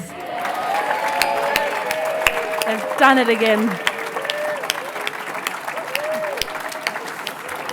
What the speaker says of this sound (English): The winner is, let's give them a round of applause, the executive leaders.